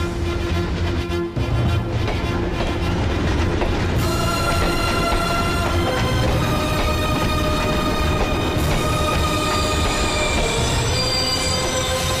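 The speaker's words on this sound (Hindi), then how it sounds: "वो देखो ट्रेन आ रही है।" A train pulls in at a station, steel wheels squealing loudly against the rails in long high whines over a steady rumble of rolling carriages, continuous and close throughout.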